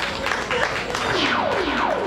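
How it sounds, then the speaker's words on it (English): Audience applause and cheering fill a Nigerian stand-up comedy show, a dense, steady crowd roar with a few whistle-like sweeps, lasting about two seconds. "If you're happy to be a Nigerian, give yourself a round of applause, please."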